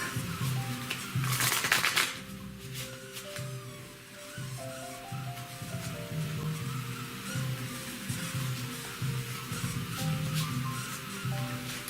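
Oracle cards from a spiritual deck are shuffled by hand, giving a burst of crisp riffling followed by softer, repeated sliding and rubbing of cards close by, with faint tonal background sound underneath.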